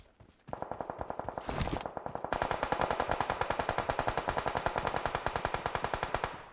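Sustained automatic gunfire rattles in a shooter video game, a fast, even stream of loud shots running for several seconds after a brief quiet start, with a short whooshing swell partway through.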